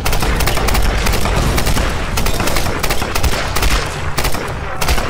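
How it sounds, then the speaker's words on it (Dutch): Loud, dense gunfire from the video game Tomb Raider Definitive Edition, a continuous barrage of overlapping shots and bursts filling the whole stretch with heavy crackling intensity. "Voor mij mogen ze komen, ik knal ze wel af."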